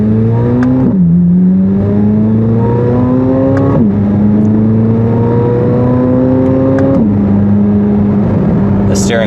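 A 2023 Chevrolet Corvette Z06 3LZ on a test drive, its engine pulling loud and close through repeated rising upshifts, with three distinct gear changes across a steady, droning run.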